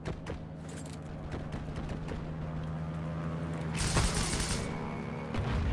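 Gunfire striking the player in the World War II shooter Heroes & Generals, a dense run of close, sharp shot impacts and thuds over ongoing game noise, with a bright burst of noise near the four-second mark.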